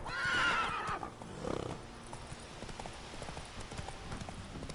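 A horse in Witcher 3 gallops with rapid rhythmic hoof clip-clops and lets out a loud neigh at the start, the hoofbeats continuing steadily through the game scene.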